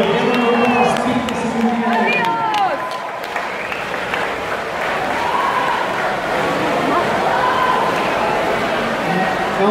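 Spectators at a 100m butterfly swimming race in Bolzano clap and cheer continuously, a loud, reverberant crowd roar with shouts and whistles mixed in, children's voices and talk over the din.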